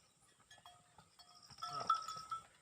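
Kurumbai sheep bleat in a pen in Palani, Balasamudram, a few faint, quavering calls rising near the end over quiet background noise, with a soft bell-like tinkle.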